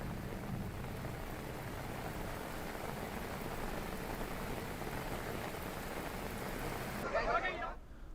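Heavy monsoon rain pours steadily and loud across the whole stretch in Jhunjhunu, Rajasthan, a dense continuous hiss that thins out near the end.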